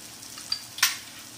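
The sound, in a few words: sautéing garam masala in a pan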